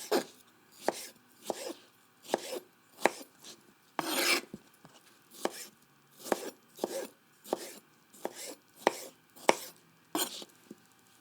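A knife cutting a vegetable into smaller pieces on a board, a series of crisp separate chops in an uneven rhythm with short pauses, close and fairly quiet, no voices.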